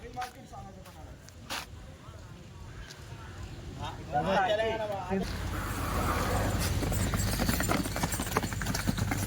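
Khillar bulls walk at the Chalisgaon bull market, their hooves clopping on hard ground amid busy outdoor crowd noise, while someone talks over the scene.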